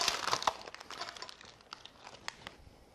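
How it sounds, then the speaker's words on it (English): A knife slits open a plastic tray of packaged Sun Shrimp, giving close crinkling and crackling plastic with sharp snaps at first, then quieter scattered rustles. "So I'll take a knife here, cut them open."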